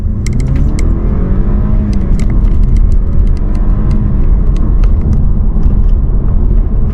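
A BMW 420i Gran Coupe accelerates hard from a standstill. A steady, loud engine roar and road rumble run unbroken throughout, with small clicks scattered on top and no talking.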